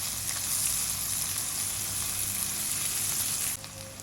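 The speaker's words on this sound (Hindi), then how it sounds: "अब इसमें सबसे पहले प्याज शामिल करेंगे और लाइट सा कलर देंगे इसको।" Onions frying over low heat for dhaba-style chana dal, a loud dense sizzle filling the clip without pause before it drops sharply to a quieter hiss near the end, no voices.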